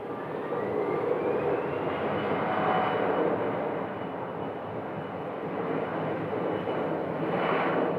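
A SkyWest airliner passes near an airport in hot weather, its engine roar steady and loud throughout with a broad rushing drone, swelling slightly toward the end; no voices.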